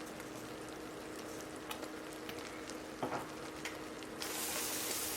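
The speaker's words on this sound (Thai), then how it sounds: "ผัดเขาทุกอย่างให้เข้ากันดีค่ะ ผัดให้แห้งๆ ดีเลยนะคะ" Minced pork with salted egg, holy basil and onion is stir-fried until dry, a soft, steady sizzle with scraping stirs that swells louder toward the end.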